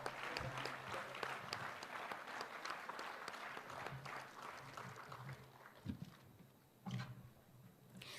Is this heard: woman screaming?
no